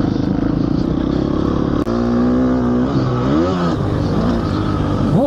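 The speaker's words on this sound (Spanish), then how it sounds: "Esto sí, una moto de cross, full empepinada." A Gas Gas motocross bike with an Akrapovič exhaust idles roughly, then revs up and down in a few sharp throttle blips, loud and close.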